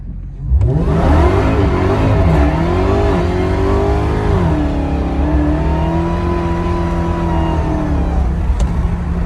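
A 2021 Dodge Charger SRT Hellcat Redeye Widebody engine roars as it accelerates at full throttle, revs climbing steadily, easing briefly, then pulling again at high pitch; loud and close, no talking.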